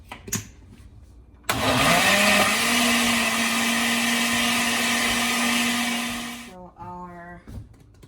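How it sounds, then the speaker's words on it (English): Onion and garlic whirring in a kitchen blender for sauce, a loud, steady motor drone that starts abruptly after brief handling noises, runs for about five seconds, then winds down, with a voice briefly heard afterward. "add 1 piece of the onion, and we're also going to add garlic. We will blend it out."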